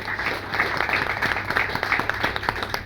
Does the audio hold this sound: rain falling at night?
no